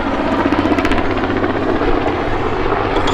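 A Westland Wessex HC2 helicopter with twin coupled Rolls-Royce Gnome engines flies at the 2021 Duxford Battle of Britain airshow. Its loud, steady rotor thrum and turbine roar fill the air without a break.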